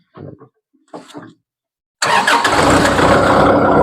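Diesel engine of an L4708 tractor cranks and catches, settling at once into a loud, steady close idle after a few faint sounds.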